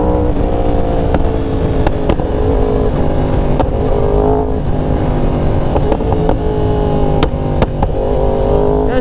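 A Yamaha R1 sport bike sits on two-step launch control, its engine held at a loud, steady high rev with sharp crackling pops bursting through at irregular intervals, close up and with no talking.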